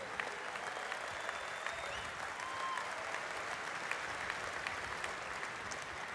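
Steady applause from a large convention audience at a denominational annual meeting, continuous and even throughout with faint crowd noise mixed in.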